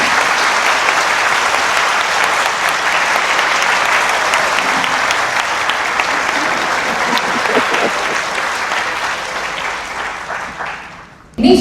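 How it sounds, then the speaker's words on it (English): Audience applause fills the room at a financial talk, a dense, steady clapping that holds loud for about ten seconds before tapering off, with a brief burst of noise at the very end. "Can I ask that you all give him a round of applause?"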